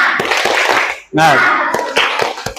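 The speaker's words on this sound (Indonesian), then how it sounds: "Tepuk semangat." A classroom of students performs a tepuk semangat, a rhythmic spirit clap: sharp, evenly spaced hand claps run through the clip, blended with loud group voices chanting and shouting together.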